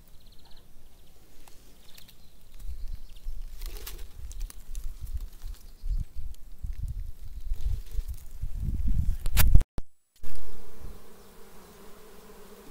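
Honeybees buzz steadily around flowering honey plants outdoors, a close, continuous drone with a few louder passes, ending in a brief burst of handling noise.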